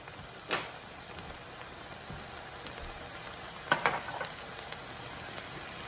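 Mushrooms sauté in a hot pan with a soft, continuous sizzle, broken by a couple of sharp clinks from stirring.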